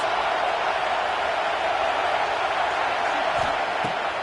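Football stadium crowd at a Texas A&M versus Michigan game roaring on third down, a loud, steady wall of cheering and noise that stays dense throughout with no pauses.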